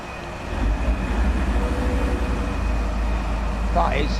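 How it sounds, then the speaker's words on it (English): Train from Train Sim World 2022 on a route near Middlesbrough and York: a steady low engine and rail rumble that swells after the start and holds, with a brief high squeal near the end. "That is a beautiful sounding train."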